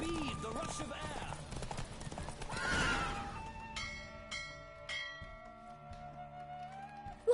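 Galloping horse in The Witcher 3 slows from pounding hoofbeats into a clear whinny, then the hooves fade as bell-like tones ring out and a voice speaks.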